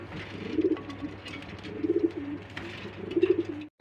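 Rajshahi giribaz pigeons, a breeding pair, coo in three soft rounded bursts at a steady pace, close by, with a low constant hum underneath and no talking.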